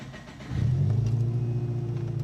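A Subaru car engine cranks and catches after an oil change, then settles into a steady, close, rumbling idle with no talk over it.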